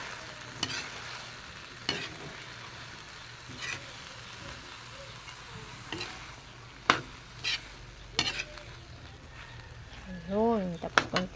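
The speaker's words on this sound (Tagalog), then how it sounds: "So, lagay na natin yung upo. Ayan. Ganyan lang. Tapos, ihalo lang natin." Bottle gourd (upo) is stirred in a cooking pan over a low sizzle, with intermittent sharp scrapes and knocks of a utensil against the pan; a voice speaks briefly near the end.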